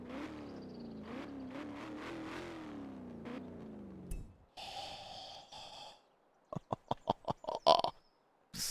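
Rover V8 engine in the Forza Horizon 4 racing game, revving raspily with rising and falling pitch, then a burst of noise and a run of sharp staccato pops and bangs from the exhaust.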